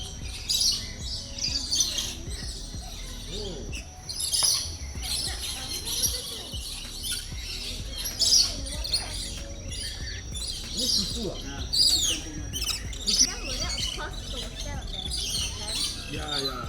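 Parrots squawk and chirp in a busy Kuala Lumpur bird park, with repeated shrill calls over steady crowd murmur and someone talking nearby.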